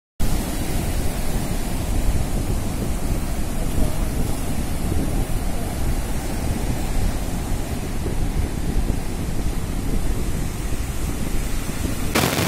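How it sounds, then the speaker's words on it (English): Ocean surf rolling onto a shore, a steady broadband wash of waves that stays loud and continuous throughout with no pauses. "Yes, children, it is the waves."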